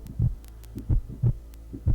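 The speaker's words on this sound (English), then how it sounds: "you hear what cannot be mistaken as a heartbeat. A pulsating sound." Slow, pulsating heartbeat in the vampire game Vampire the Masquerade Nightrunners: deep paired thumps repeating at a steady rhythm over a low hum, close and prominent with no voices.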